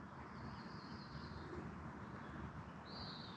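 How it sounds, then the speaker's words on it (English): Faint birds chirp and whistle in the distance over a steady wash of outdoor background noise, with no one speaking. "So you just get the sound of the birds."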